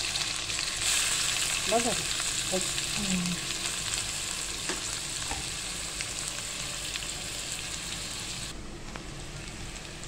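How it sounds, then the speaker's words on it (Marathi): Onion pieces frying in hot oil as a tempering for an egg dish, a steady close, loud sizzle running throughout, with a brief spoken word partway through. "आता तेल चांगलं तापले, आपण कांदा टाकतोय तेलामध्ये।"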